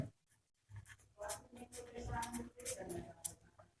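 Pen writing a physics formula for electric power on a board or paper, a soft scratchy scribbling in short bursts, fairly quiet, with no talk over it.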